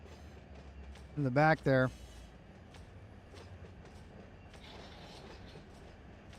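Freight cars roll and clack through a rail yard in the Run 8 train simulator, a steady rumble of wheels under a brief spoken remark from a nearby voice.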